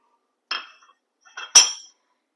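A small metal spoon clinks against a pot of melting butter, three sharp bright taps in two quick groups, close and clear with near silence between.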